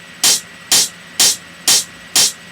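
Five evenly spaced, punchy drum hits overdriven in Ableton Live, with a gritty, distorted crunch and a bright noisy top from added white noise, repeating at a steady pulse.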